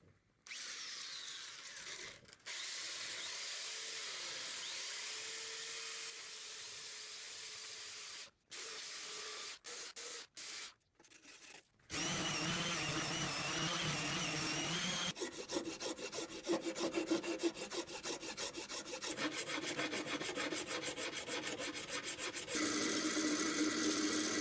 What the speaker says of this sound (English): Right now I'm just gonna get the belt sander and start shaving away the sides.